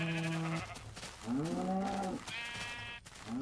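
Sheep in the Minecraft video game bleat several times in quick succession, the wavering calls loud and close against a steady background hum, with no speech.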